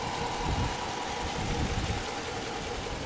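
A 2012 Dodge Durango Citadel's 5.7 liter multi-displacement Hemi V8, rated at 360 horsepower, idles in a steady, even low rumble heard close up throughout.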